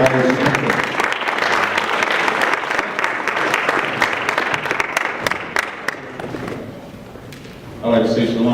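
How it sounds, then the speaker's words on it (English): An event audience gives a loud, dense round of applause that lasts several seconds before fading out, and then a voice begins speaking. "I want everybody to give a round of applause for my brother"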